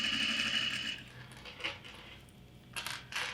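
A sewing machine whirs briefly as it back tacks a seam on a bag strap, followed by a few short clicks and light metallic taps, quiet and close with no talking.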